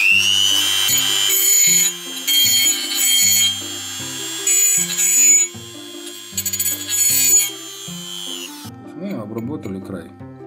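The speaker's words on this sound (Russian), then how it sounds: "вот есть у меня алюминиевый брусок с острым краем. Его можно, к примеру, легко и просто подровнять." Power tool fitted with a milling cutter trims the sharp edge of an aluminium bar, a high whining tone in repeated bursts over a close machine hum, ending in quieter scraping.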